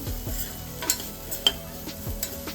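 Spiced masala with turmeric and garam masala frying for a snake gourd bhaji, with a soft continuous sizzle under repeated scraping strokes of a spoon against the pan in an irregular rhythm.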